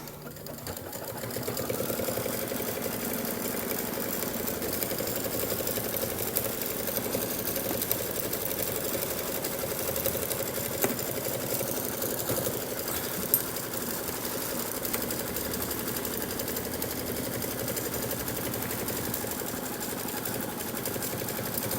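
Steady close-up whirring from a sewing machine stitching around the edge of a quilted mug rug, one continuous run after a brief quiet start, with light mechanical ticking and no talking.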